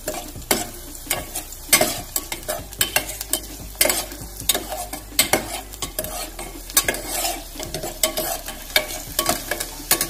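Garlic and red chili frying in hot oil for South Indian sambar, stirred with a utensil scraping the pan in repeated irregular strokes over a steady sizzle, close and fairly loud, no voices.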